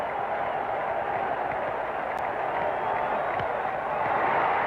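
Stadium crowd at a 1967 Red Sox home game against the Twins in the sixth inning, a steady broad roar of cheering and murmur that swells slightly toward the end, with no voice speaking over it.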